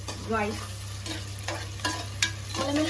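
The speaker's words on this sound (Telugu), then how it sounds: "ఇప్పుడు ఆనియన్స్ వేగుతున్నాయి" Onions frying in a pan while being stirred, with a steady close sizzle and several sharp scraping or clinking strokes at irregular intervals, and no one talking.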